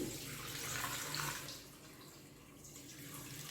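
Water pours steadily into a pot of beef pulao with cumin and beef, a continuous splashing rush that eases off slightly partway through, with no talking.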